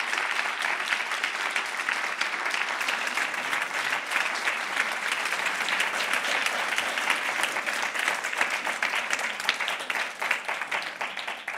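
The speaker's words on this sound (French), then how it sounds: "je vais demander, sous votre tonnerre d'applaudissements, d'accueillir Céline Ramondou" An audience at a women-in-science round-table gives sustained, even applause to welcome a communications director, with dense clapping that stays steady throughout.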